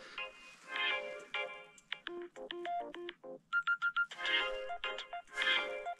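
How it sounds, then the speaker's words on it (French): An unfamiliar phone ringtone sounds after the phone switches on outdoors on a freezing winter bivouac: a melodic sequence of bright electronic notes in short rhythmic phrases, clear and near, with no talk over it. "C'est le téléphone qui s'est allumé, mais je connais pas cette sonnerie."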